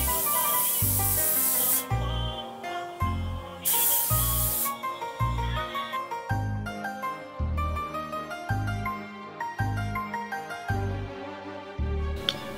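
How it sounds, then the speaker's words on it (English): Hairspray from an aerosol can misted onto sectioned hair for a Bride of Frankenstein Halloween look, heard as close, loud hissing bursts, long at first and then a steady run of shorter repeated sprays between faint shuffling. "And hairspray that baby in."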